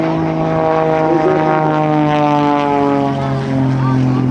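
A propeller airplane at an airshow taxis on the runway with a steady, droning engine drone that holds loud and close throughout, with a slight dip near the end.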